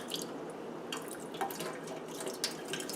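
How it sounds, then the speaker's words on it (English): Tap water running and dripping through an N95 respirator mask being rinsed at a sink, a faint continuous trickle with scattered soft splashes, close and quiet with no talk. "I want to have the water kind of flush through."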